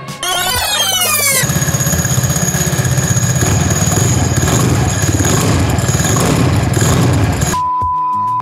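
A Vespa Sprint scooter with a Remus exhaust and titanium header starts with a brief whirring crank, then settles into a loud, steady, close idle with a rapid even putter before cutting off.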